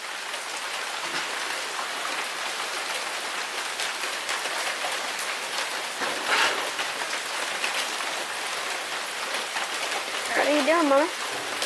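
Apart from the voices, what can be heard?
rain falling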